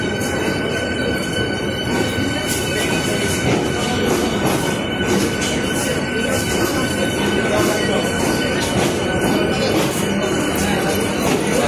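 The Krishnanagar City Galloping local train pulls into platform 8, a loud, continuous rumble of wheels and carriages with metallic squeals and clatter, and voices in the background.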